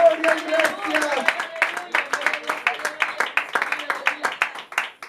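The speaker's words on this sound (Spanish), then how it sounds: "se aplaude por el Rey de gloria, iglesia." A church congregation claps in a steady, ragged rhythm, many hands close and loud, while voices sing or call out over the applause throughout.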